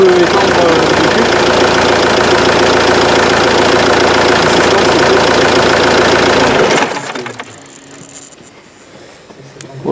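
A car engine idles with a steady loud rumble during a cooling circuit test, then cuts off near the end, leaving near silence.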